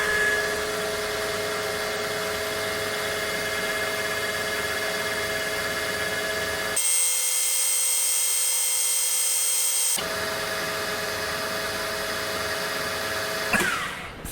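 Bushing honed on a power tool at 1000 RPM with 3.5 micron abrasive and WD-40, giving a steady mechanical whine with tonal hum that cuts out briefly mid-way, then resumes before stopping.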